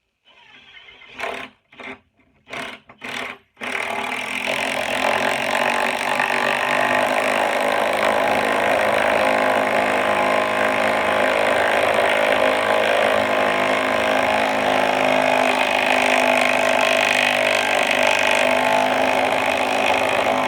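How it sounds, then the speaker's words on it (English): A power driver spins a socket driving 3/8-inch bolts into wood; a few short bursts give way to a long, loud, continuous whirring grind that runs on without pause, close to the listener. "I was waiting for the socket to quit turning."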